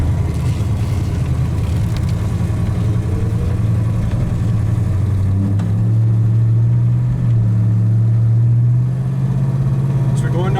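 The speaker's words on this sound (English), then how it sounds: "Out here at an idle, we're running about 900 RPM" A 1967 Hemi V8 car engine idles at about 900 RPM with a steady, close, low rumble. Its pitch lifts slightly in the middle stretch before settling again.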